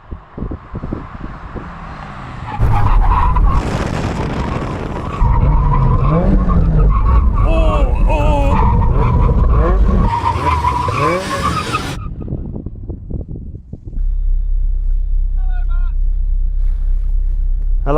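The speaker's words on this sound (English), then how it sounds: "We're going to do a full emergency stop when we hit the line. Doing it from 70 miles an hour." A Mazda MX-5 roadster brakes hard from 70 mph in an emergency stop, its tires skidding and squealing loudly over the engine drone, followed by a steady idle rumble; a voice talks in places.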